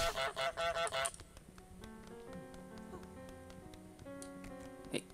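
In Untitled Goose Game on Xbox One, a cartoon goose lets out a quick burst of about five loud, rhythmic honks up close, followed by quieter game music notes.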